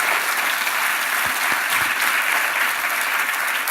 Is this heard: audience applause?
yes